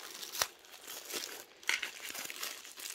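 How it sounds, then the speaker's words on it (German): Wrapping paper crinkles and rustles as a gift packed in a cardboard box is unwrapped, a soft close crumpling with a couple of sharper crackles and no talking. "Dann machen wir mal das Geschenkchen als erstes auf"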